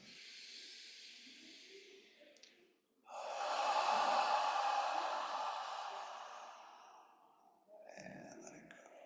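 Long, steady breathy exhalations during a yoga breathing exercise, one sustained outbreath swelling then fading, framed by softer breaths before and after, close and fairly loud.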